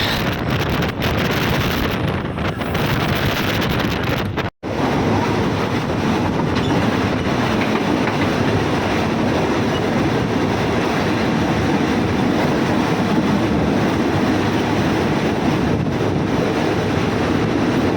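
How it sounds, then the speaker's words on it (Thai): A Thai passenger train rumbles steadily and loudly across a black steel bridge over a river, a continuous roar with wind buffeting the microphone, no voices, one brief dropout early on. "ขบวนรถไฟที่ 52 ของเรานะผมได้วิ่งข้ามสะพานดำนะครับ"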